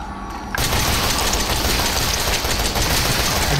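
Rapid automatic gunfire from a Resident Evil 7 video game bursts in after a brief quiet moment, a loud dense continuous rattle of shots lasting several seconds.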